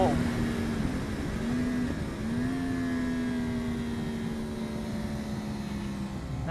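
A race car running laps on a circuit, its engine drone steady and continuous at a fairly constant pitch with slight dips, heard from on board while someone talks.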